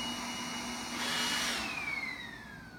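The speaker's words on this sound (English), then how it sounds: "Roomba 180 has started cleaning." A Roomba 180 robot vacuum runs indoors with a steady mid-level motor whir, rising briefly louder in the middle and then easing off, with no talk over it.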